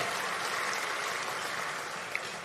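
Audience applause at the ANC presidential gala dinner, a soft, steady wash of many hands clapping, heard from a distance and sustained throughout.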